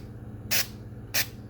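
Two short, sharp bursts of spray from a texture sprayer applying orange-peel wall texture over a patched spot, each about a tenth of a second and separated by a pause, close and fairly quiet.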